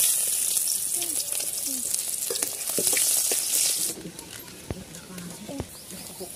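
Onions fry in a pan for egg curry, giving a loud, steady sizzle with scraping and stirring clatter that drops to a quieter crackle partway through.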